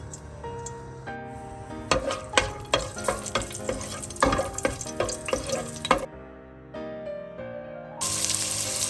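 Whole star anise, cinnamon and cloves stirred in hot oil in a pan for a paneer biryani, giving a close, steady sizzle with repeated scraping clicks, a brief quieter stretch, then a louder bright fizz.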